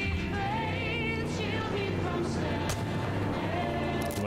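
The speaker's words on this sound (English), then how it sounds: "Oh my god, you are shooting at me." Gunfire in the video game Baldur's Gate 3, a few booming shots and sharp bursts over a dense, loud layer of game music and effects.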